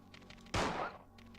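A single sharp, loud gunshot bursts out with a quick decaying tail, fired at a zombie dog in the Resident Evil 2 video game, with faint game ambience before and after.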